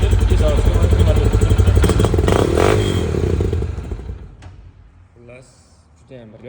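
Motorcycle engine running inside a motorcycle showroom, fitted with no catalytic converter and a straight-through factory exhaust; a loud steady idle that fades after a few seconds, then short revs and clatter come through.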